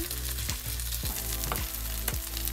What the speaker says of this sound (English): we put the meat into the pan